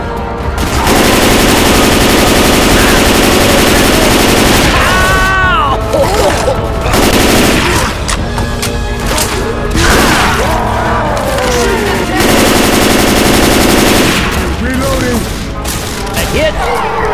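Rifle gunfire in the video game Left 4 Dead 2 rattles in long, loud automatic bursts with short gaps between, mixed with booms and crashes of the fight, while voices call out under the shooting.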